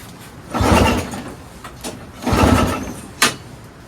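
A Craftsman single-stage snowblower with a flooded 5HP Tecumseh engine being pull-started: two long rasping recoil pulls about two seconds apart, followed by a short sharp knock, with no engine catching.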